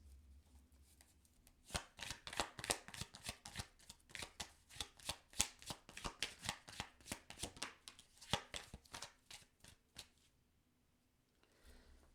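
Tarot cards are shuffled in a long run of quick, crisp riffling bursts, close and fairly quiet, with no voices.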